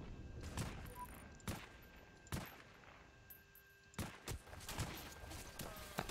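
Scattered gunshots in a first-person video game battle, each shot a sharp isolated crack spaced a second or so apart, fairly faint and coming from one side.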